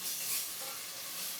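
Fish fries on a hot tawa, giving a loud, continuous close-up sizzle and hiss with no voices over it.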